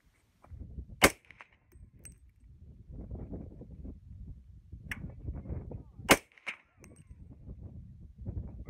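Two sharp, loud gunshots from a 300 AAC Blackout rifle ring out about five seconds apart outdoors, each with a short echo, with quiet rustling and low voices between them.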